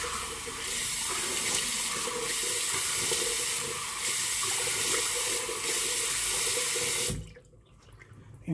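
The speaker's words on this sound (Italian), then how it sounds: "adesso facciamo una sciacquata di viso con acqua fredda" Cold water runs steadily from a tap into a sink with a broad rushing hiss, then shuts off abruptly near the end.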